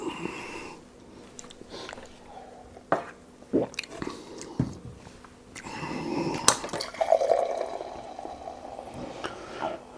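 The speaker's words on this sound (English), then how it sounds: "Yeah, that's still dripping." Quiet intermittent drips and small liquid taps from a PerfectDraft beer tap at close range, scattered irregularly over a faint background hum.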